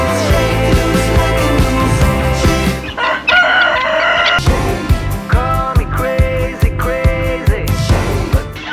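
A rooster crows over repeated clucking from several chickens, close and loud, against a steady busy background at a fun park in Almaty, Kazakhstan.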